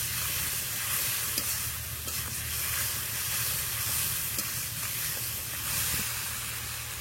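Spices with salt and turmeric powder being sautéed in a pan, a continuous loud sizzle and hiss with occasional scraping stirs, steady throughout with no talking.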